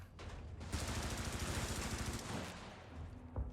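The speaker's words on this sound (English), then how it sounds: "they would fucking hear all that gunfire" Rapid bursts of video game gunfire from Helldivers crackle continuously at moderate volume, a dense fusillade with no voices, fading slightly near the end.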